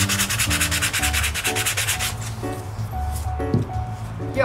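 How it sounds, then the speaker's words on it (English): Hand sanding a rustic wooden snowflake sign gives a steady, close scratchy rubbing in repeated back-and-forth strokes, with a tonal hum running underneath throughout. "see if maybe you wanna sand some more or if you're good with the way it looks"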